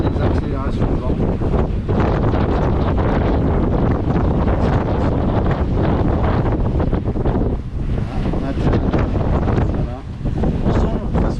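Strong wind gusts buffet a sailing boat at sea in the Caribbean, roaring steadily and loudly against the microphone with waves and hull splash mixed in, gusts swelling throughout.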